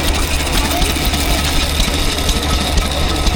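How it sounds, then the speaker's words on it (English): A Lister stationary engine powering an Ace winch runs steadily at close range, a constant chugging drone with no pauses. "So there's a Lister, and it's powering an Ace winch"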